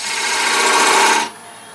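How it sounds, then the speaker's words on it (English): A wood lathe spins a miniature birdhouse while a point tool rasps against it to mark a bead, giving a steady, close scraping for just over a second before cutting off to a quiet motor hum. "So I'm going to take my point tool and just mark where that bead's going to go."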